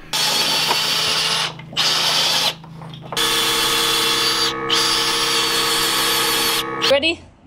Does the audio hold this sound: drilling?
yes